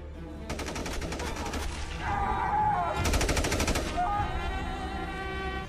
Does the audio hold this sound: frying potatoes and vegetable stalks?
no